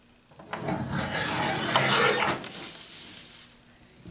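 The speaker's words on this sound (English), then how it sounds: "I'm going to cut a 5-inch wide strip of it" Saw or rasp strokes cutting a 5-inch wide strip of wood for a Japanese-style box, a steady scraping run of about two seconds that swells and then tapers off, close up, with no talking.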